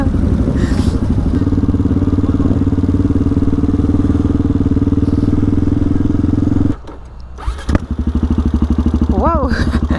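Motorcycles riding together at a large motorcyclists' protest on the motorway near Lille, a loud close engine drone with clattering that drops off sharply near the end, followed by a few revving pulses.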